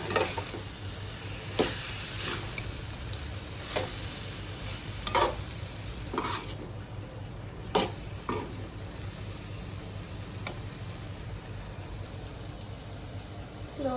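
Steady low sizzling of hot ghee in a pan, with occasional scraping and stirring clicks of a utensil against the pot.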